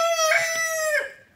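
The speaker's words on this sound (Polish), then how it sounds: "Dlaczego kury tutaj chodzą?" A rooster crows once, close and clear, in a farmyard where chickens roam, a single drawn-out call lasting about a second before fading out.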